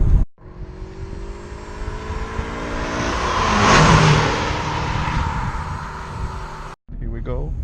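Mitsubishi Lancer Evolution 4 rally car heard from inside the cabin, engine revving hard and accelerating through rising gears, loud and close, with a brief gap near the start and a short voice at the very end.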